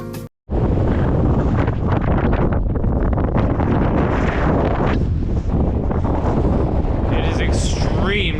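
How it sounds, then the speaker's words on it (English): Strong wind buffets the microphone in a loud, constant roar on an exposed, bleak upland, with a person's voice faintly under it near the end. "It is extremely windy up here"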